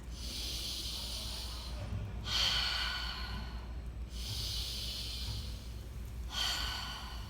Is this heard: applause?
no